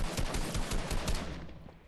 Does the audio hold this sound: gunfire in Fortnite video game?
yes